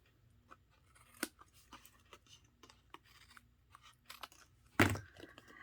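A strip is trimmed off while layering, heard as soft, scattered snips and rustles close by, ending in one sharper, louder cut near the end.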